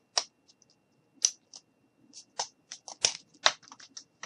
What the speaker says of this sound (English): and we just cut that off a little bit.